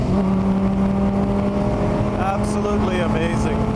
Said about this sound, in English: I'd like to give you a taste of what 140 miles an hour feels like in this car